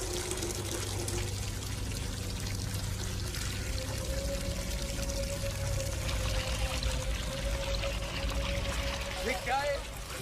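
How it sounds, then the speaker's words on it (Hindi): Water gushes from a hand-operated tap into a bucket, a steady continuous pour that runs throughout, with voices talking over it. "शुभ हाथों से नल चलाकर पानी निकालो"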